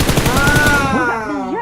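Rapid automatic gunfire in PUBG Mobile, loud regular bursts at the start giving way to a voice talking over fading shots.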